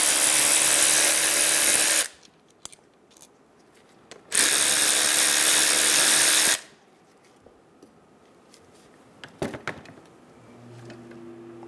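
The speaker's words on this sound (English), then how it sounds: "Using a 14mm socket, remove the caliper bolts out of the new caliper." A power tool with a 14mm socket breaks loose the brake caliper bolts on a 2010-2014 Subaru Outback: two loud whirring bursts a couple of seconds apart, then quiet clinks.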